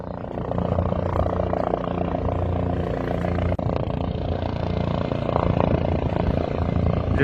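A helicopter sets down before a gathered village crowd, its rotor and turbine roar loud, dense and continuous, briefly dipping midway before swelling again.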